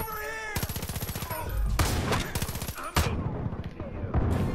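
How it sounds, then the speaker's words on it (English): Gunfire in Far Cry 5, with loud rapid bursts of automatic fire and a sharp blast like a shotgun, close and punchy, mixed with game sounds and a brief voice. "Oh, damn shotgun."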